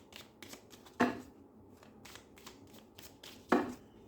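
Tarot cards are shuffled by hand close up in a soft rhythmic riffle, with two sharper louder bursts as the deck is cut and squared.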